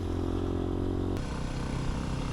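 A Yamaha WR dirt bike motorcycle idling or running steadily nearby, a continuous loud engine rumble with a slight shift in tone partway through, with no talking.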